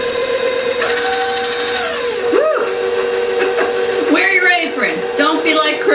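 An electric hand mixer beats confectioner's sugar into a peanut butter mixture in a bowl, a steady whirring drone running throughout with pitch dips as the load changes, while a person talks over it.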